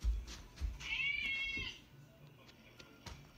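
A cat meows once, a drawn-out mid-pitched cry, moderately close against quiet background with a few soft thumps.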